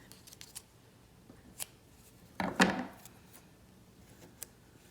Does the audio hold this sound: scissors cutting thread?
yes